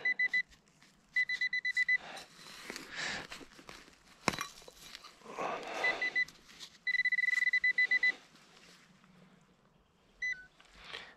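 A metal detector gives several short bursts of rapid high beeping separated by gaps. Soft rustling and scraping fill the spaces between them, with a sharp knock near the middle.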